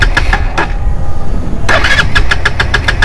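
A Benelli TNT 150 motorcycle with no fuel left in its carburettor cranks on the starter without catching: a few separate bursts, then a fast run of repeated pulses, loud and close.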